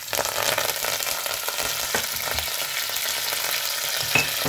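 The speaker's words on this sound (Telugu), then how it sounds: "ఇప్పుడు ఇది బాగా ఫ్రై అవ్వాలి" Chillies and curry leaves fry in hot oil in a pan, giving a steady close sizzle with occasional crackles and stirring scrapes throughout.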